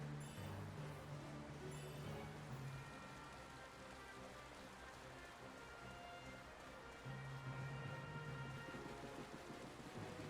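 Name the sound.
rain in video game Final Fantasy XII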